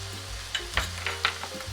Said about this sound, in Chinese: 大蒜叶比较容易熟， 再炒至30秒左右